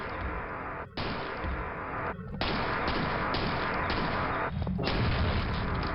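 Dense, continuous rumbling blasts and booming impacts fill the whole stretch, loud and chaotic, with brief dropouts between bursts of explosions in a Quake map.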